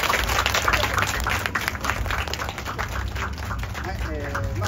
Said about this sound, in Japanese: 今一度、大きな拍手を。